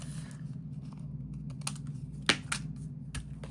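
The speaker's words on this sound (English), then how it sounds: "We're going to trim that off." A strip is trimmed off a paper envelope with a few sharp, crisp clicks and rustles spread over a few seconds, close and fairly quiet, with no talking.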